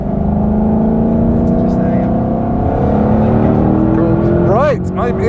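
A Shelby GT500's 760-horsepower 5.2-litre supercharged engine runs loud and close at Goodwood, its steady drone slowly rising in pitch before a quick blip of revs near the end.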